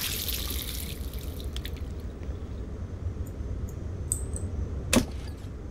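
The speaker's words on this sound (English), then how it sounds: "Splash some water on my face." A sink tap splashing water in Life is Strange, a steady soft rush of running water throughout with a brief sharper splash near the end, heard alone without talk.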